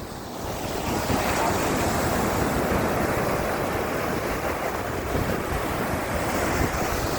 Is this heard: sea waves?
yes